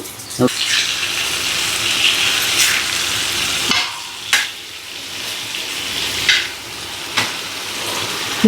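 Fish frying slowly in a pan gives off a steady, close hiss of sizzling oil, broken now and then by sharp clicks and scrapes of handling, with no voices.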